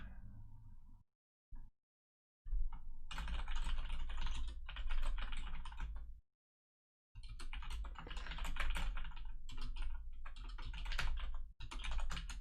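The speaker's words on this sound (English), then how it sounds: "Pat, I can hear you typing" Computer keyboard typing in rapid, continuous bursts with a few brief pauses, close and fairly loud, no talking over it.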